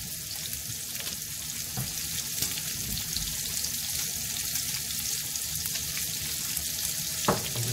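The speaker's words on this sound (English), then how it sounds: "start to fry down nice and carefully" Seasoned food frying in a pan gives a steady, close sizzle that runs unbroken throughout, with a few faint clicks and stirring knocks and no voices.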